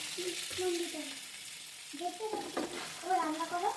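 Vegetables frying in hot oil for a vegetarian dish, with a steady close sizzle and occasional stirring scrapes, while voices talk intermittently over the cooking.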